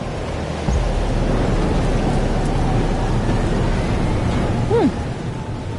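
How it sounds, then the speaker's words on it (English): Thunderstorm with heavy rain in the game Life is Strange Double Exposure: a dense, steady downpour hiss under a low rolling rumble of thunder that builds after the start, with a brief high squeak near the end. "But there wasn't a storm the day Safi died"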